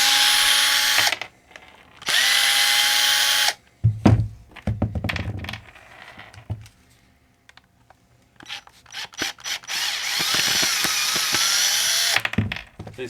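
A power driver undoes screws from an old, dried-out fitting. Three loud, sustained whirring bursts are broken by clunks and knocks as the screws and parts come loose close by.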